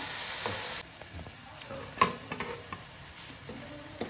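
Green chillies frying in hot oil in a pan give a constant faint sizzle, broken by scattered light taps and stirring clicks, with one sharper clink partway through.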